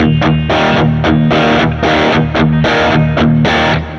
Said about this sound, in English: It's got that breathy PLEXI.